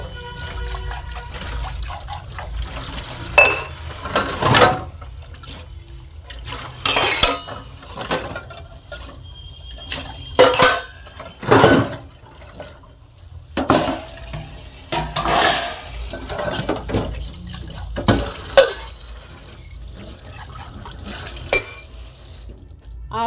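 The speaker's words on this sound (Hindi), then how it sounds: "बर्तन धोने अभी आधे बर्तन मैंने धो लिए थे और आधे अब धो रही हूँ।" Dishes being washed by hand at a sink: a running tap splashes steadily while soapy plates and utensils clink and clatter in irregular bursts, close and fairly loud.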